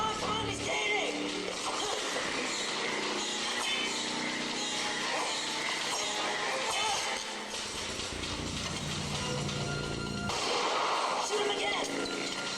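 Gunfire effects on a Universal Studios Orlando ride crackle and boom continuously over a loud, dense ride soundscape, with excited voices shouting throughout.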